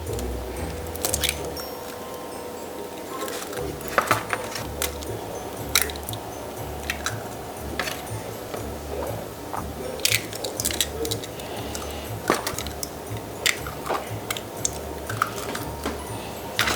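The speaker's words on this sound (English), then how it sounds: "now we have our 6 cracked eggs in this measuring jug" Eggs are cracked one after another into a measuring jug in a home kitchen, giving close, scattered sharp taps and wet squishy sounds over a constant low hum, with no talking.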